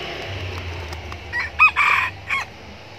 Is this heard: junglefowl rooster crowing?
yes